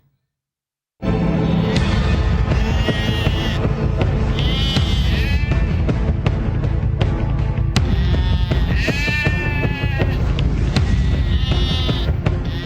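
A large flock of diseased Australian sheep bleats loudly and continuously at a site in Karachi, many overlapping calls close by forming a dense, wavering chorus.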